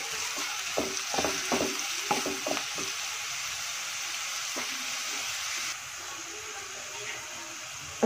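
Onions soften in a hot pan with steady sizzling and hissing throughout, while several sharp clicks and scrapes from stirring come through in the opening seconds; the frying continues at an even, moderate level to the end.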